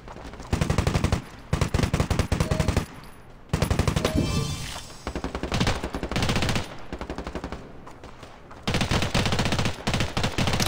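Rapid automatic gunfire from the mobile shooter Standoff 2 comes in several loud bursts, each a dense rattle of shots, separated by short quiet gaps. No talking is heard over it.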